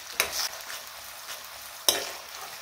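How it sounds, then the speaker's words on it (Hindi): Tomatoes stirred into frying potatoes in a pan, a faint steady sizzle with two sharp scraping stirs, one near the start and one toward the end. "2 टमाटर को भी मिक्स कर देते हैं"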